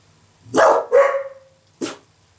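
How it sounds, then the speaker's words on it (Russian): A dog barks on command during fetch training: two quick close barks followed by a third after a short pause, loud and with no other sound. "Лай."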